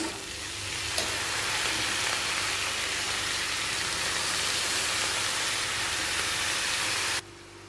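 Potato pieces frying in a pan with salt and turmeric, a loud, dense, continuous sizzle up close with a brief clink at the start, cutting off abruptly near the end.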